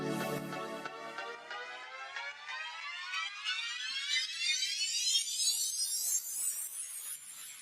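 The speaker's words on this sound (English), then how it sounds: "For this part here, I also used an automation to delay, and it sounds like this." A synth sent through a delay in Ableton Live for a minimal house track, its pitch automated upward so the repeating harmonic echoes sweep steadily higher and brighter over several seconds, continuous and fairly even in level with no talk.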